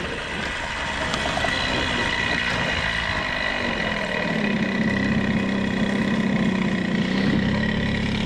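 A restored old Jawa moped engine idles steadily and loudly close by, a continuous buzzing drone with slight wavering in pitch and no talk over it.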